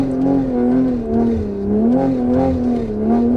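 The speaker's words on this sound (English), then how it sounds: "these guys are asking me to rev my engine to clear my exhaust" Stage 1 450 bhp Audi RS3 engine revved at the drag strip start line to clear its exhaust, a loud sustained throbbing drone that rises and falls in steady waves across the whole moment, close and alone.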